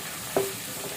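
Chopped onions and green chillies being stirred in a frying pan, a steady low sizzle with one brief scrape of the spoon near the start, heard close and alone.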